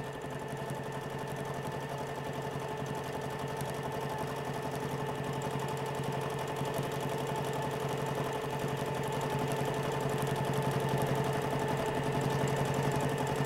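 Continuous, even hum of a sewing machine stitching along a quilt seam, close and steady throughout with no talk.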